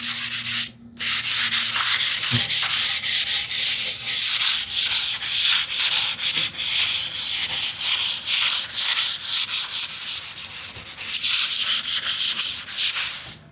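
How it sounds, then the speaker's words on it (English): Mild hand sanding of a shellac finish on a wooden TV unit, a steady run of quick rhythmic rubbing strokes, close and loud, with no talking. "It feels a little bit rough to the hand, so I will do some like mild sanding."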